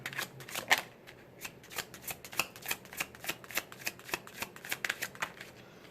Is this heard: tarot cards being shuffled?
yes